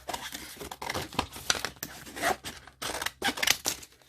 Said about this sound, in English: Let's cut out the little coffee pot.